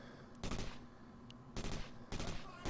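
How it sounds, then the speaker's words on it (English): Silenced weapon fire in the tactical shooter Takedown: Red Sabre: three short, muffled bursts spaced across the moment, each a dull thudding cluster over a low steady ambient hum, with no talking. "I know I'm firing a silenced weapon"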